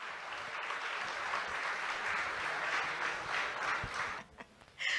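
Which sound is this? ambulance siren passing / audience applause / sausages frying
audience applause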